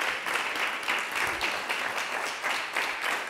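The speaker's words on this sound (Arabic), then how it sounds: "خليني نستقبلها تحت تصفيق كبير منكم انتم." A TV studio audience applauds to welcome a returning mother, the clapping dense and sustained at moderate level, swelling in gentle rhythmic waves without a break.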